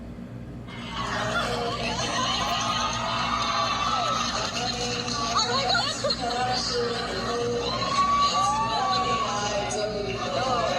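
A crowd of concert fans in Singapore screams and cheers steadily throughout, a sustained roar with scattered shrieks and whoops, at moderate distance.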